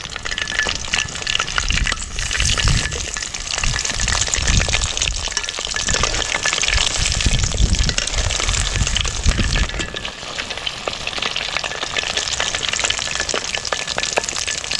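Quail pieces fry in a pan with a steady, close crackling sizzle that lasts the whole time. Soft stirring and scraping sounds rise now and then underneath the sizzle.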